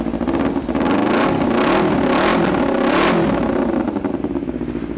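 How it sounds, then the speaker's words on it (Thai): A 2013 Kawasaki Z250 two-cylinder motorcycle engine fires up and revs, a loud, continuous close-up engine roar with rising and falling throttle blips over about five seconds, with no talking. "ผมขออนุญาตทำการสตาร์ทครับ เสียงดีปะเพราะมันสองสูบไง"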